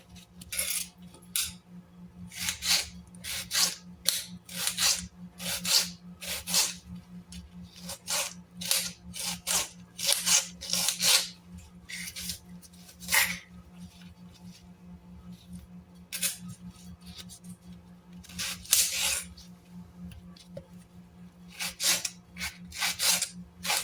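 Onion being sliced for a chicken dish, a knife tapping repeatedly against a board or plate in quick irregular bursts, close and clear over a steady low hum, with no voices.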